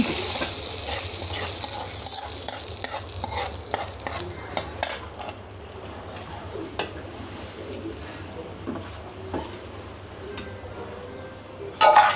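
Beef curry poured into a pan, setting off a bright hissing sizzle with rapid spoon scraping and clinks at first, then easing to a quieter steady fry with occasional stirs and a sharp clatter at the end; no talking.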